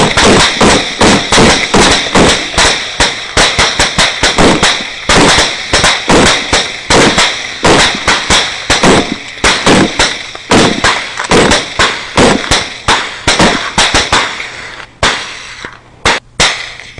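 Gunfire during a night hunt, with dozens of loud, sharp shots cracking in rapid, uneven succession close by, barely pausing for about fifteen seconds before a few final reports.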